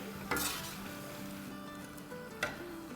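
Yogurt sizzles and fries in hot oil in a karahi for a restaurant-style karahi, with steady crackling and two sharp scraping stirs, one near the start and one near the end.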